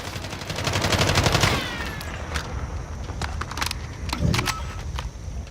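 Rapid automatic fire from a Gilded Holger 26 light machine gun in Call of Duty: Modern Warfare, a fast burst followed by several separate sharp shots and clinks, with no talking.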